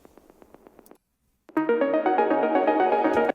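A synth arpeggio plays dry without a crystallizer effect, first as short repeating plucked notes, then after a brief gap as a sustained bright chord sequence with steady stepping pitches.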